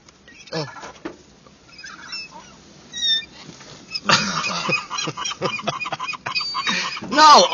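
Birds honk in short calls while being fed on a car hood, with excited voices talking and exclaiming around them, a loud honking burst near the end.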